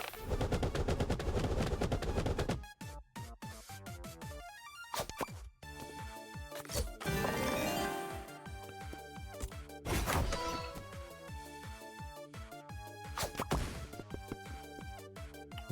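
Explosions in a card-based dungeon video game erupt as a dense, loud chain of crashing blasts and bursts, several sharp hits at the start and around the middle, layered over busy game music and effects.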